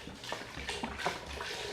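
Chicken stock pours into a pot with a garlic base for split pea soup, a steady close liquid splash and gurgle with no talk.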